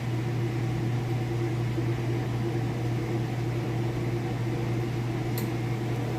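A Kenmore washer spinning at full speed with its lid open gives a steady, loud mechanical hum and whir, constant and smooth with no talking.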